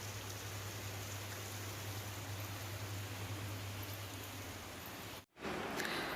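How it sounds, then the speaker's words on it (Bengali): Heavy downpour, a steady dense hiss of rain with a low constant hum underneath, continuous and even until a sudden brief dropout near the end before it resumes. "খুব জোরে বৃষ্টি নেমেছে।"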